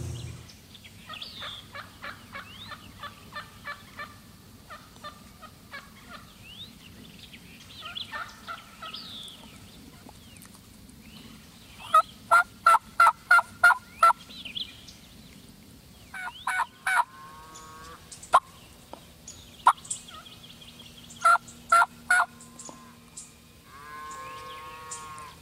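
A wild turkey gobbles again and again in loud rattling bursts, clustered in quick series, over quiet outdoor ambience on public hunting land.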